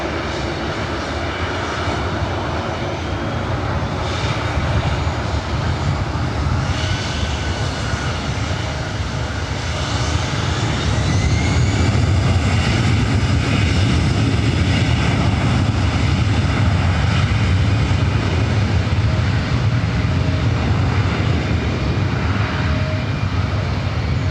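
A Delta airliner on its takeoff roll from runway 24 right at LAX, its jet engines building to a loud, sustained roar with a broad rumble that holds strong throughout, heard from a nearby spotting position with no talk.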